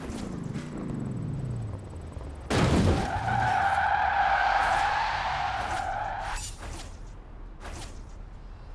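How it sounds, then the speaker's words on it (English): A Willys Jeep races and skids in Forza Horizon 4, with a whooshing approach, then a loud sustained tire squeal for several seconds before it fades into lighter rolling noise and a few sharp scuffs. "The Willys Jeep doesn't disappoint, banking this one quickly"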